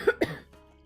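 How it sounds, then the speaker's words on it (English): Two quick, close coughs in a row, sharp and loud, followed by a faint quiet tail. "Don't like this cough."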